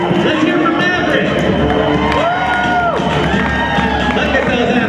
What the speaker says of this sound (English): Let's hear it for Maverick